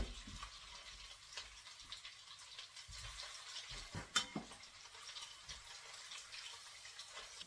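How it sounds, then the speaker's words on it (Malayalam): Prawns fry in a pan of oil with chillies and curry leaves. A faint, steady sizzle is broken by occasional stirring scrapes and a sharp clink near the middle. "ഇതിലേക്ക് ചെമ്മീൻ കുറച്ചിട്ട് വറുത്തെടുക്കാം."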